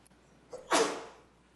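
A single sneeze from someone in a city council meeting room, a short sharp burst after a faint intake of breath, fading quickly into quiet.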